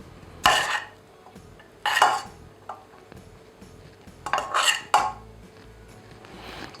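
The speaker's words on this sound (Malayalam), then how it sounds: "അപ്പോൾ നമ്മൾ കടല ആഡ് ചെയ്തതിന് ശേഷം നല്ലതുപോലെ മിക്സ് ചെയ്യുക കടല." A spoon stirs chickpeas into rice in a pot for a Turkish chickpea chicken pilaf, making several scraping, clinking strokes in irregular bursts, close and moderately loud.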